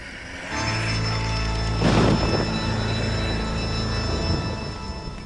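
Thunderstorm in the Red Dead Redemption: Undead Nightmare game, a steady wash of rain with a deep rumbling thunder swell building near the middle and fading out, with no voices.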